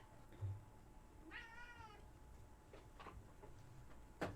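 A cat meows once clearly, a rising-falling call, with faint room noise and a few small clicks around it.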